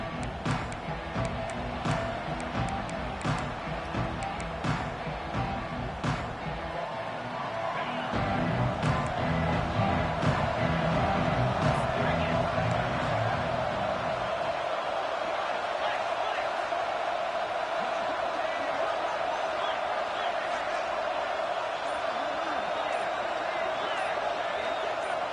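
A college football stadium crowd produces a broad, steady roar that swells louder midway and then holds at a sustained level, heard from within the stands under a commentator's voice.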